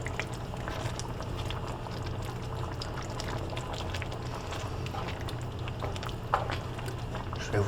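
A pot of potatoes bubbles steadily as it boils, a dense continuous simmering hiss with small pops, close and fairly loud throughout.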